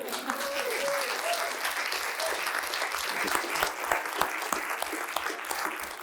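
Audience applause at an open education talk event, sustained broad clapping throughout with a brief spoken voice near the start under it.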